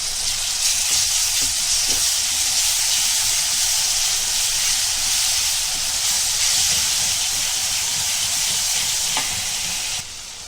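Ginger garlic paste hits onions frying in a pan for hara chicken keema. A loud, steady, close sizzle hisses without a break, with no voices over it.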